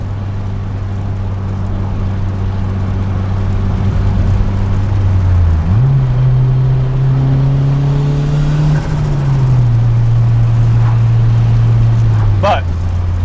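A turbocharged Honda Civic engine fitted with smaller Y7 injectors and an FMU idles loud and close with a steady drone, briefly rises in pitch when revved, then settles back while a voice talks over it.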